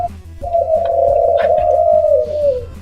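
Pigeons coo close by, loud and clear: a sustained, wavering hum rises after a brief pause and holds for about two seconds before trailing off.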